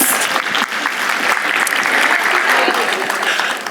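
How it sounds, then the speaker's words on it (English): Audience applause fills the room, a steady, dense clapping that stays loud and even for the whole stretch with no talk over it. "Give them a round of applause."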